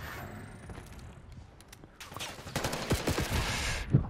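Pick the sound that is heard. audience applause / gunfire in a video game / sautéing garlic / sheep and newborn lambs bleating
gunfire in a video game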